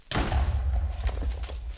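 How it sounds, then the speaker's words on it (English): A Minecraft creeper explodes in one sudden, loud, booming blast whose deep rumble fades over about two seconds. "It's a nice big old creeper explosion there"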